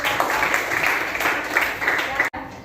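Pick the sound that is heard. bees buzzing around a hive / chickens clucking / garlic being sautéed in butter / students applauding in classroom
students applauding in classroom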